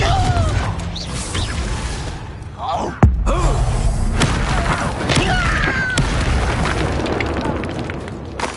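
A Confringo blasting spell goes off in Hogwarts Legacy: one sharp, loud burst around the middle, among game effects and chatter, with voices talking throughout.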